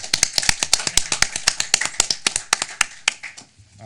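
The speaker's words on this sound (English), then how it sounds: "give them a round of applause for their services" Applause at a regular council meeting, a handful of people clapping in a steady, fairly close run of distinct claps that thins out and stops near the end.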